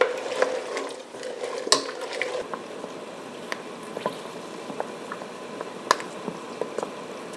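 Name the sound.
cranberries simmering in sugar solution, skins popping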